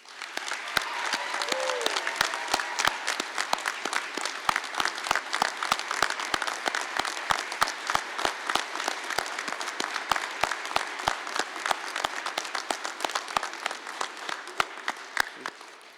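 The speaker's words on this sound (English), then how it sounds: "Let's give them a round of applause" A ceremony crowd applauds newly graduated firefighter medics at a Henry County Fire Rescue graduation, dense steady clapping throughout with a few sharp louder claps standing out.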